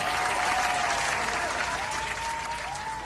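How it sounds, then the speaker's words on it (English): A short burst of crowd applause, dense and steady clapping at even loudness throughout, with no talking over it. "Round of applause."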